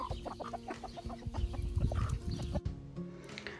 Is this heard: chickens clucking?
yes